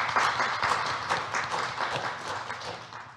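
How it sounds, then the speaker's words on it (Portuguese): Applause for guests at a Portuguese community celebration of the Casa dos Açores do Ontário, a crowd clapping steadily and fairly close, fading slightly toward the end. "Um aplausozinho para esta gente."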